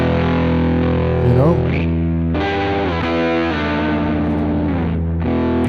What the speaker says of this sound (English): I love this more, this dirty, creamy sound, but listen how your guitar reacts with the equipment.